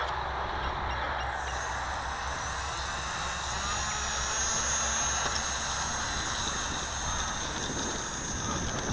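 Crane Fly drone propellers spin up into a steady, broad whir outdoors in a breeze. A high tone rises in after about a second and holds, with no talk.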